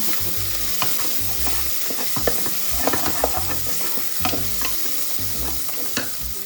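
Mint leaves fry in hot oil in a pan for chicken biryani, giving a steady close sizzle with scattered crackles and spatters, with no talk.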